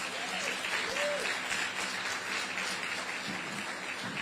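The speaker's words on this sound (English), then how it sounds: "Give him a round of applause." An audience applauds at a groundbreaking ceremony for the Carteret Borough multimodal ferry terminal, with dense, steady clapping from a sizeable crowd lasting several seconds and faint voices mixed into it.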